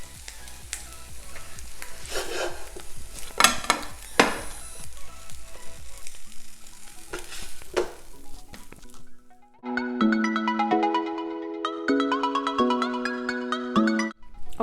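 Eggs and potatoes sizzle in a skillet, with clicks and stirring in the first half, then a melodic ringtone plays over the frying.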